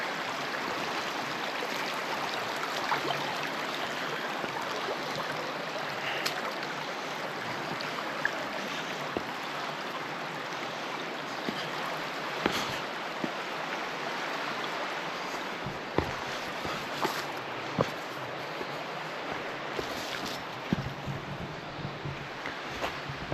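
A creek in Carter Caves State Park flows in a steady, moderate wash of water that stays even throughout, with occasional small splashes and clicks and no talking.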